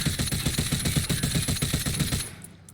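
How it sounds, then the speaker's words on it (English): Rapid, evenly spaced rifle fire in Warzone, about twenty shots in a steady fast rhythm, loud and close, cutting off abruptly near the end. "That was only 20 shots"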